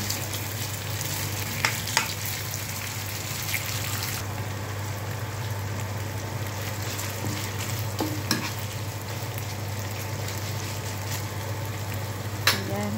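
Marinated chicken with oyster sauce and pepper is stirred in a hot pan, a steady close sizzle with a few sharp clacks of the utensil scraping the pan, no talking.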